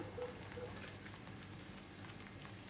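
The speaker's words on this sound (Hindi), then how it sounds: "हमारा ऑयल गर्म हो गया, मैंने इसे डालकर छोटा सा एक पीस चेक किया।" Small pieces of bread for shahi tukray fry in moderately hot oil, giving a soft, steady crackling sizzle that continues quietly throughout.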